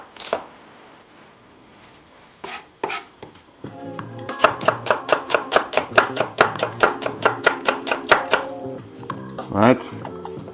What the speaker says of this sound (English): Let's give it a little rough chop.